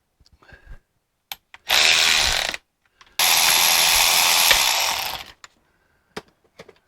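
A power tool whirs in two strong bursts, short then longer, as long bolts holding accumulator springs come out of a 1955 Triumph TR2 overdrive unit, with faint clicks and clunks of parts before and after.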